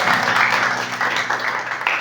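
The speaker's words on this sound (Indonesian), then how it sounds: "saya minta tepuk tangan dulu buat Tuhan Yesus yang luar biasa" Church congregation applauding in praise during an Indonesian worship service, a steady wash of clapping with no break for two seconds, a low drone underneath.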